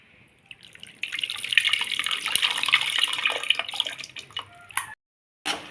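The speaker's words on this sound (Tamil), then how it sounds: "புளியை கரைச்சி இப்போ வந்து அந்த பருப்பில் ஊற்றிடலாம்" Tamarind water pours steadily into a pot of lentils for several seconds, a continuous splashing trickle that stops briefly near the end before resuming.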